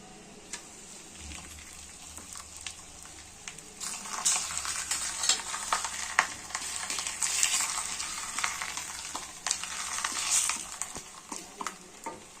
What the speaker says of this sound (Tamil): இப்போ நம்ம சப்பாத்தி சுட போகிறோம்